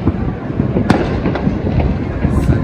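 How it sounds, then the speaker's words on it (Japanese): Private fireworks set off by individuals all over Bangkok on New Year's Eve, a dense continuous crackle and rumble of many bursts near and far, with a few sharper loud bangs standing out. "バンコク中に音が響き渡ってるね。"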